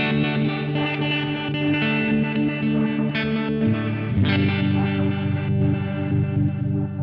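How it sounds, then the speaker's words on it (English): A sustained Moog Messenger synth tone drenched in overdrive and chorus, with echoing delay and reverb smearing the notes; a shift in pitch midway, loud and alone. "he's got overdrive going into a chorus, going into a delay, and then going into a reverb"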